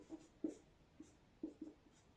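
A pen writes on a board in a few short, soft strokes and taps, quiet and close, with pauses between the marks.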